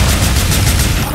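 A dynamite explosion in GTA IV: The Ballad of Gay Tony, a loud, close, sustained rumbling roar that fills the moment with dense crackling debris.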